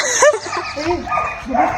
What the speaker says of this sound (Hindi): कुत्ता क्यों भौंकदा है?